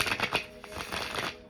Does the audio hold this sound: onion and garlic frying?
no